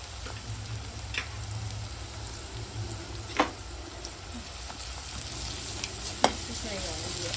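Turmeric and spices frying in a pan for a spicy kalakura dish, a steady low sizzle with a few sharp stirring clicks and taps against the pan.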